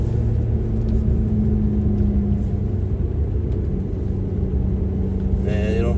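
A 2006 Ferrari F430 Berlinetta with F1 paddle-shift gearbox driving on back roads, a steady loud engine drone and road rumble from inside the cabin, with a brief pitch change near the end.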